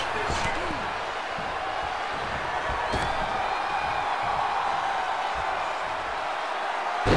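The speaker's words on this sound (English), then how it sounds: "Listen to the ovation from this crowd." Wrestling arena crowd at a televised Raw-style event, a steady loud roar of ovation and cheering filling the whole stretch, with thumps from the ring and commentary voices under it.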